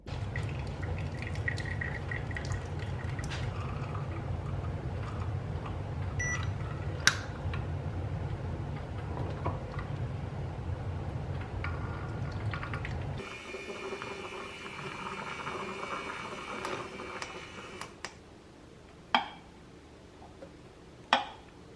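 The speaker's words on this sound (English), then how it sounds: "making my morning coffee and the big long process it takes with this manual espresso machine" A manual espresso machine at work while morning coffee is made: a low steady hum gives way to hissing and clinking, with a few sharp clicks and taps near the end, close and fairly quiet.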